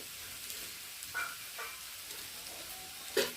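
Chickpeas and taro fry in a pan with a faint, continuous sizzle and a few soft clicks near the end.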